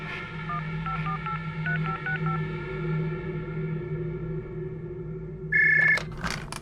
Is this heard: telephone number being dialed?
yes